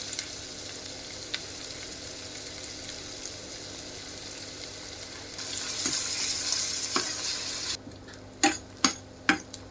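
Ginger, garlic, spring onion and onion sauté in hot oil in a pan for curry, giving a steady close sizzle that briefly swells, then a few sharp clinks of a utensil stirring against the pan.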